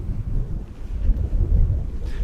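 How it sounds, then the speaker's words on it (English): Gusty, cold wind in Massachusetts buffets the microphone with a low, rumbling roar that rises and falls, with no voices. "It's cold and windy."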